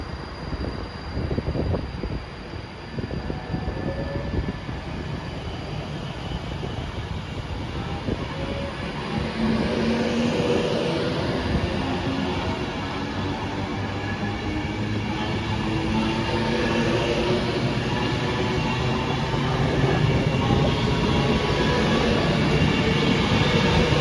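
Avanti West Coast passenger train pulling away from a station on the London Euston to Edinburgh service, a steady rumbling roll that swells gradually as it gathers speed, with faint squeals and clatter throughout.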